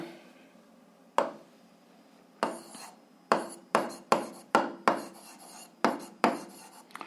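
Pen or pencil scratching on paper in a string of short strokes, writing out a 7th-grade algebra solution about integers x and y; close and fairly faint, with no talk.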